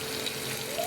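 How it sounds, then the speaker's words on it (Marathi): A vessel of water poured into hot, sizzling dal tadka in a pan, a steady close hiss and gush lasting the whole short moment. "आता एक तांबे मी पाणी टाकत आहे."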